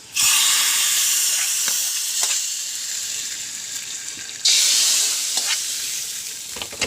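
Loud hiss as hot oil tempered with fenugreek and dried red chillies hits a lentil curry, settling into a steady sizzle with a few clinks, then a second sharp burst of sizzling near the end.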